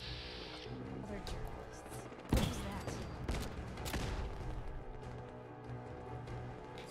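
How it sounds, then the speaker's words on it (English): Fallout 4 gameplay with a Galac Tac mod on the Project Mojave Strip: a sharp burst of gunfire rings out, then scattered further shots and clatter sound at moderate distance over a low game background. "Oh, who's shooting?"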